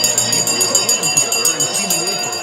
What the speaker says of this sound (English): the bell has gone